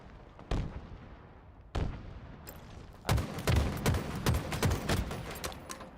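Heavy gunfire in a Halo match: two isolated booming shots, then a rapid volley of sharp blasts and explosive impacts, loud and close, with no talking.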